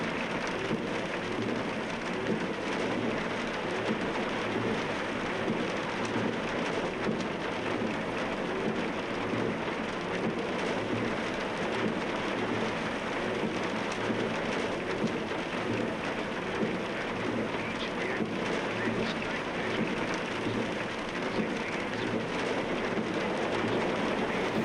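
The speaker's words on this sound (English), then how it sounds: "I feel like the rain and the windscreen wipers are really loud and the radio is too quiet" Heavy rain drums steadily on a ride vehicle during a park tour in Jurassic World Evolution 2, a dense continuous hiss that stays constant throughout with no talking.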